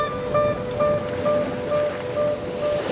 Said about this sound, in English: It's a perfect A-frame, right in the middle of the ocean, breaks as big as it'll get